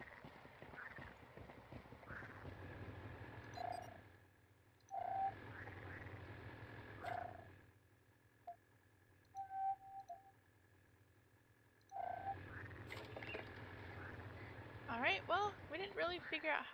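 Toads croaking in the video game Beyond Good and Evil, short chirpy croaks scattered over a low game ambience hum, with someone talking across much of it.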